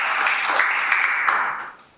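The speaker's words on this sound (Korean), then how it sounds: "고생해 주신 박아론 청년위원님께 다시 한번 큰 박수 부탁드립니다" Applause for a youth committee member closing a presentation at a Korean forum on justice policy: a dense, steady wash of clapping that holds evenly for nearly two seconds, then fades away.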